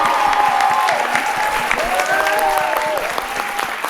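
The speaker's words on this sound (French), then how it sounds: "on peut les applaudir très fort" Audience at a summer theatre show by a touring company in Sablonceaux applauding loudly at the end, steady dense clapping with scattered whistles and cheers over it.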